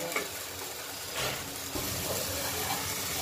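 Boiled bottle gourd and fish are stir-fried together in a pan, a soft continuous sizzle with a few scraping stirs, close and brief, without speech.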